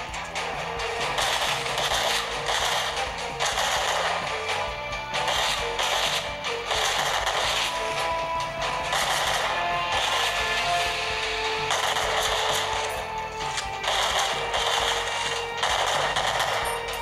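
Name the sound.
gunfire in mobile video game Frontline Commando 2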